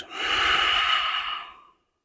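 Breathing during a beginner morning yoga routine: a single long, airy exhale, steady and close, with no talk over it.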